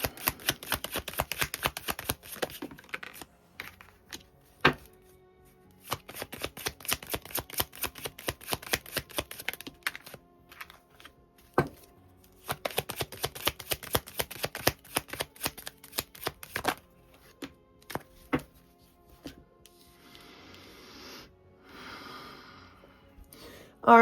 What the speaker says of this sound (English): we're going to start off with Lenormand, shuffling the deck from the previous read